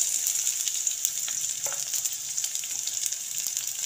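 Small shallots fry in oil with popped mustard seeds, making a fairly soft but steady sizzle with sharp little crackles and pops throughout, no voices present.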